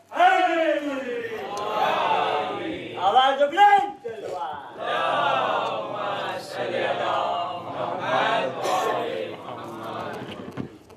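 A large crowd at a Shia religious gathering during Ramadan chants religious slogans in loud unison, with repeated swelling call-and-response bursts of many voices and a single voice leading between them.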